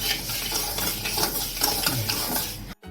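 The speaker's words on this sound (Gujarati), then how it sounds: "એને આ રીતે હલાવતા રહેવાનું અને બેથી ત્રણ મિનિટ એને થોડા શેકવાના છે" Stirring and dry-roasting ingredients for a traditional South Gujarati dish in a pan, with steady scraping and light sizzling for nearly three seconds before an abrupt cutoff.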